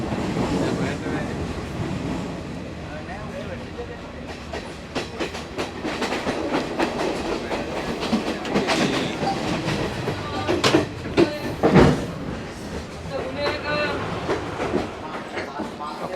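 A train carriage rumbles and clatters while moving between Colombo and Kandy, with wheels clacking over rail joints and sharp metallic knocks. The noise is loud and close, and voices can be heard faintly underneath.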